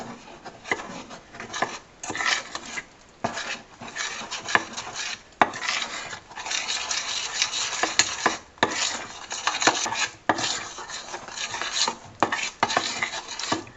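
Homemade play dough made with vegetable oil is stirred in a bowl, giving repeated scraping and rubbing strokes of a utensil against the bowl in uneven bursts with brief pauses, close and moderately loud.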